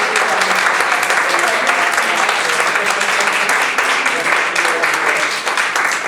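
An audience at a round-table talk on gender equality, diversity and inclusion applauds, a dense, steady clapping that stays loud and even throughout.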